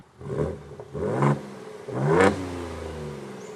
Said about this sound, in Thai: ในการปรับโทนเสียงของตัวท่อไอเสียนะครับ